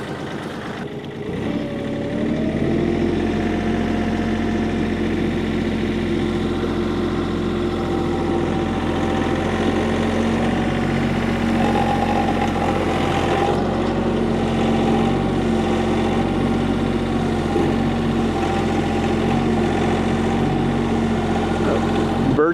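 A tractor engine that has been used for moving logs starts up and then settles into a steady, loud idle or low-speed running drone, close and continuous, with no speech.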